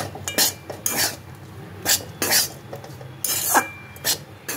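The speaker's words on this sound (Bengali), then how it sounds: "কিন্তু এটা নাড়তে থাকতে হবে, নাহলে ঝুরঝুরে হবে না" A spoon scrapes and knocks around a metal pot as food is stirred to keep it crumbly, giving irregular clinks and scrapes in short bursts, close and fairly clear with no voices.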